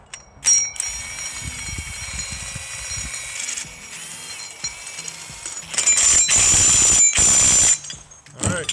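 A cordless half-inch drive impact driver runs in short loud bursts, driving hardware on the leveling feet of a Woodland Mills HM130MAX sawmill, with a high steady whine lingering between bursts.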